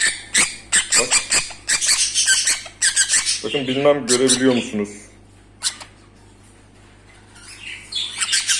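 A large pet bird held in the hand gives loud, close, harsh squawks in a quick series, mixed with someone talking over and between the calls.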